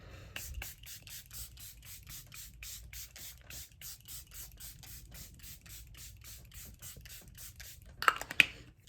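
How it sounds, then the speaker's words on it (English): Charlotte Tilbury Airbrush Flawless Setting Spray misted onto a made-up face, a long run of short, quiet, steady spritzes close by with no talking, ending in a louder burst of rustling. "now for some setting spray. Of course, my go-to Charlotte Tilbury Airbrush Flawless Setting Spray."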